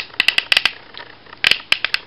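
Sharp plastic clicks from the knee joints of a Transformers Siege Shockwave figure, a quick cluster of close, crisp snaps, a brief pause, then another short burst, alone without speech.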